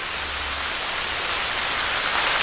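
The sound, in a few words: rain falling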